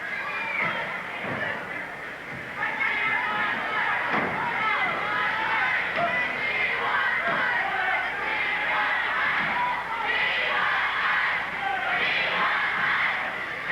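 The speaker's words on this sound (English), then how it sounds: "There's the cry from the crowd" A wrestling crowd at a Portland match crying out, a dense continuous roar of shouting voices with swelling yells, steady and loud, with commentary talk mixed in.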